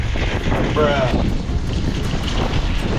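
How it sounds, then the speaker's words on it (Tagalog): Strong Florida wind buffets the microphone in a steady, loud roar of low rumble and gusts lasting throughout, with no voices. "Ngayon naman sobrang hangin."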